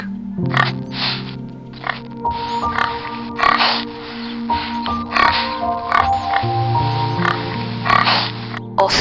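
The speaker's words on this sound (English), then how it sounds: "pig" A pig gives a run of short, breathy grunts and snorts at an uneven rhythm, close by and moderately loud, with soft background music playing beneath.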